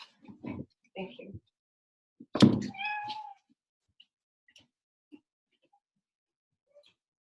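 Indoor house cats, unhappy at being kept inside, giving a few short meows and one longer, louder drawn-out yowl, followed by faint scattered small noises in a quiet room.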